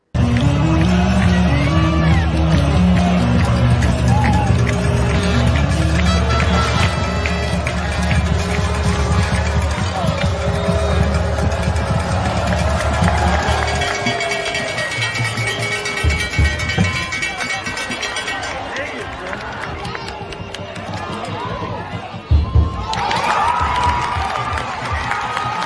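Large high school football crowd roaring at kickoff, loud sustained cheering with whoops and shouts that dips midway then surges again near the end.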